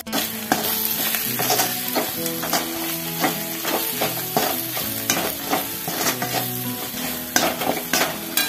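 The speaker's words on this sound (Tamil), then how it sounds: "நல்லா இந்த எண்ணெயிலே வதக்கிக்கலாம்." Spices with fennel seeds and salt sautéing in hot oil in a pan, a steady close sizzle and crackle with frequent scraping stirs of a utensil throughout, no voices.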